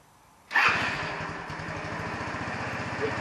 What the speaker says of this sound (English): I don't know if the idle sounds proper.